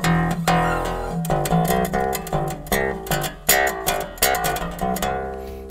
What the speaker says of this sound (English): The bass just on its own, without even being plugged in, is about as loud as any of the big bodied basses that you see